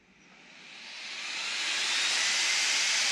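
A powerful cooling fan on an Arrma Mojave EXB RC car spins up from quiet to a loud, roaring whoosh, rising steadily before holding at a strong, airy hiss.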